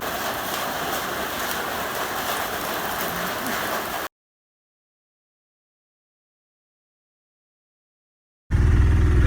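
Heavy rain pours during a wait for a train: a steady, dense wash of rain hiss fills the first four seconds, then the sound cuts to silence before a short, loud low rumble bursts in at the end.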